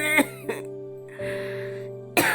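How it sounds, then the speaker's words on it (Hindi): A woman coughs in an animated Hindi cartoon story, a short harsh burst, then again after a pause, with a longer raspy throat sound before a final cough, all close and clear in a quiet indoor scene. "माँ को खांसी आ रही थी।"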